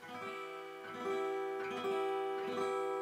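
A single guitar chord strummed without a barre several times in a slow, even rhythm, ringing open and bright with sustained overlapping strings, close and fairly quiet.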